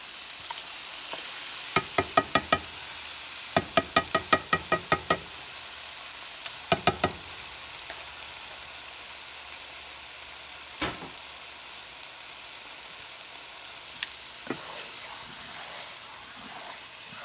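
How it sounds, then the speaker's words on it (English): Chicken browning in a pan for butter chicken curry gives a steady, faint sizzle, broken by short bursts of sharp scraping and clacking as it is stirred, with a few isolated knocks later on. "The chicken is kind of browning."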